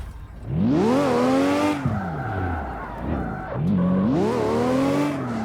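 A V12 drift car in the PC racing game CarX Street revs hard and slides, its engine note rising and falling in long sweeps with tire skid noise. Two big surges come close and loud, with a brief dip between them.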